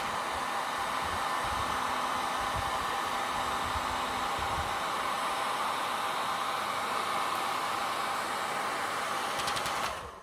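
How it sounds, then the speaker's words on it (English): A hair dryer blows air at the base of an airfoil in a loud, steady whooshing roar that holds constant for about ten seconds and cuts off abruptly at the end. "we're going to test it out with a hairdryer and aim the air at the base."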